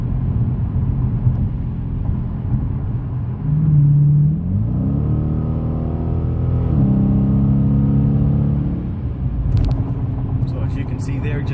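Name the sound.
Dodge Challenger R/T accelerating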